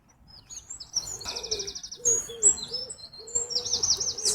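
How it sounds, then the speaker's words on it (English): Several birds sing on a morning, trading bright chirps, warbles and trills back and forth, with a lower cooing call repeating underneath; fairly close and clear, with no voices. "The sounds of the birds."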